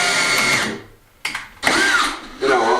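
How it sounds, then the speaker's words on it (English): A power tool drives a screw into a wooden floor board during a farmhouse restoration, heard as several loud whirring motor bursts separated by short pauses, with a rising whine in one burst. "I'm just going to put the screw in first, just to make it easy for it to go in."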